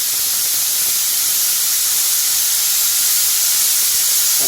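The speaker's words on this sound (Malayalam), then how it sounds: "അപ്പോൾ 1 വിസിലായല്ലോ." Steam blasts from a pressure cooker whistle while dal and vegetables cook for Kerala sambar. The hiss is loud, close and unbroken for the whole stretch, and no voices are heard.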